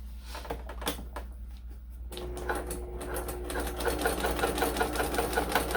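A sewing machine starts up after a few scattered taps and handling knocks, then runs steadily with a rapid, even mechanical chatter of stitching, close and moderately loud over a low hum.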